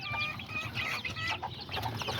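Azteca roosters and hens cluck and chatter in a nearby flock, overlapping calls coming in quick bursts against a soft farmyard background.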